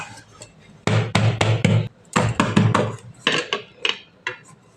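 A cake pan is flipped onto a plate and tapped, giving a run of sharp metallic knocks and clatters in quick clusters, close and loud.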